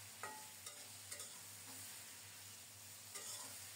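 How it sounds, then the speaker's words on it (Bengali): Salted, turmeric-rubbed ridge gourd (dhundul) frying in oil, with a soft continuous sizzle and a few sharp taps of a utensil against the pan, quiet and close with no voices. "এই তেলেই ধুন্দুলগুলো ভেজে নেব।"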